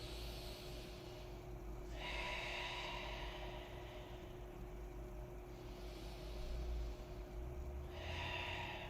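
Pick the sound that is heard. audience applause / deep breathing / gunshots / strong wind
deep breathing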